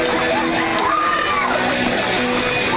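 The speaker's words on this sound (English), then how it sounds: "You can hear the cheering." Crowd at a Howard vs. Midland softball game yelling and cheering in a dense, steady roar that runs unbroken from start to finish.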